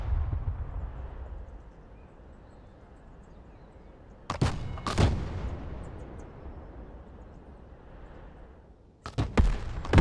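Artillery fire mission in the video game Broken Arrow: two loud booming impacts, one near the middle and one at the end, rising out of a low rumbling ambient battlefield bed.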